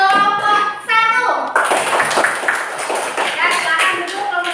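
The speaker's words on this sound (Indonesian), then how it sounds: "Kita kasih tepuk tangan buat kelompok 1." Clapping from fifth-grade students in a classroom, a steady burst of hand claps rising after a brief pause and continuing near and fairly loud with children's voices and chatter mixed in.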